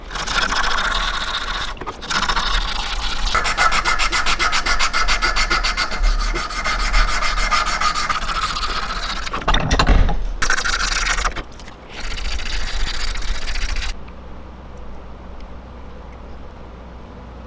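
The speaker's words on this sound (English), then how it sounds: "I'm gonna sand all that smooth." Sanding a hand-carved wooden humpback wake bait lure, a loud continuous abrasive rubbing that runs steadily close up, with brief pauses and shifts in pressure before stopping near the end.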